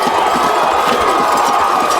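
A high school football crowd on the Lincoln County side stands and cheers, a steady wash of roaring voices with scattered shouts throughout.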